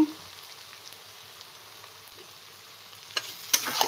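Cabbage with green peas frying in a wok at night, a steady soft sizzle throughout with a few sharper clinks of stirring near the end, no talk.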